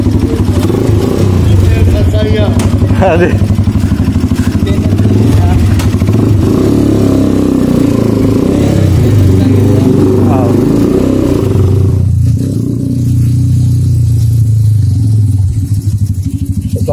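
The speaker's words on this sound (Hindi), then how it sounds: "बाइक की जो साउंड है ना माशाल्लाह काफ़ी ज़्यादा है" A motorcycle engine runs steadily and loudly up close, with a rough idling rumble and some clatter throughout, while someone speaks briefly over it.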